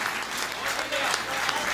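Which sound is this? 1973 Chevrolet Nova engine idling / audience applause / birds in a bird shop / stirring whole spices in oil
audience applause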